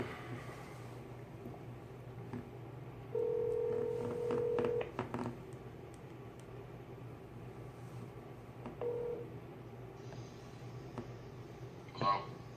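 A telephone call is being placed, with a steady ringback-style tone sounding for about two seconds and then a shorter repeat, faint under a low background hum with scattered clicks.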